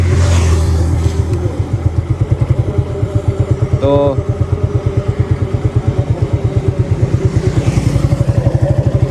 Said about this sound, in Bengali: বাইকটা স্টার্ট করি এবং আপনার সাথে কথা বলতে থাকি